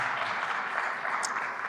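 Audience applause at a Jersey City commemoration marking five years since a terror attack, a steady, even wash of clapping from a crowd heard at moderate level, with no break.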